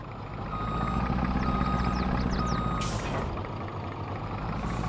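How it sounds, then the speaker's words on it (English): Truck and trailer reversing in the Farming Simulator 22 video game: a steady, loud diesel engine rumble with a rapid series of reversing beeps, then two sharp hissing bursts of air brakes, no talking. "I really can't reverse. I should not be trusted with a truck and trailer."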